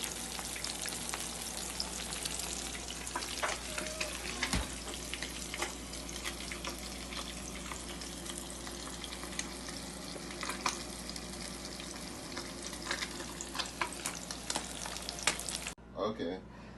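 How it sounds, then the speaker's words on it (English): Fish frying in hot oil for escovitch fish, a dense continuous sizzle with crackling pops and spits throughout, fairly close and loud, ending with a brief clatter. "I've finished frying all the fish, and this is what it should look like"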